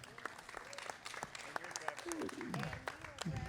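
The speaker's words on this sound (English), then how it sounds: "a big round of applause for Skip Brown" Scattered applause from a park festival audience under nearby chatter and overlapping voices, with the claps fairly faint and uneven.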